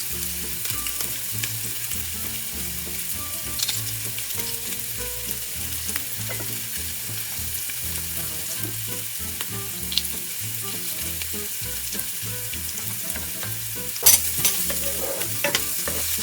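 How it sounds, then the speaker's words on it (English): Garlic frying in a deep pot for a one-pot tuna pasta, a steady close sizzle with light crackling and occasional soft clicks, no voices. "Now I'm gonna add the garlic."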